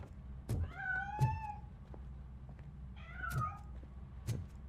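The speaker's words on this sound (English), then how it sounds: "That cat must be hiding inside." A cat meows several times in the video game RoboCop: Rogue City, rising and falling cries spaced out against a low ambient background with soft thuds.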